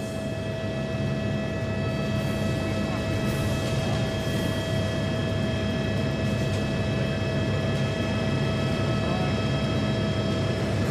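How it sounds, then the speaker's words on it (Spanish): A helicopter lifts off nearby: a steady, loud droning rotor and turbine roar holds constant for the whole stretch, with no speech over it. "estamos observando el momento en que ha despegado el helicóptero"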